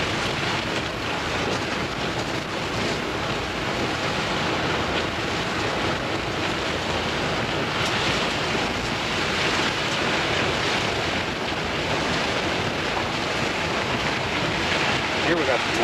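Flood water pours over a road from a plugged culvert in Wuikinuxv during a November 1989 flood. It makes a steady, broad rushing roar that stays constant throughout, mixed with some wind buffeting.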